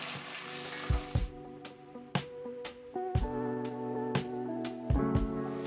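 Chopped onions and green peppers sizzle softly in olive oil in a pan for a spaghetti meat sauce, a faint steady fry broken by several sharp clinks and taps of a utensil against the cookware.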